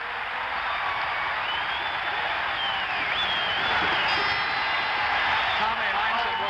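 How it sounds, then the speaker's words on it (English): A basketball crowd at the Phoenix Coliseum during the 1976 NBA Finals roars and cheers in a continuous wash of noise, with a commentator talking over it. "Listen to the crowd, the Coliseum in Phoenix."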